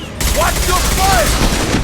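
Rapid sustained gunfire in the Mass Effect 2 combat fills the clip with a loud, dense fusillade of automatic shots, and brief game effect tones sweep through the mix.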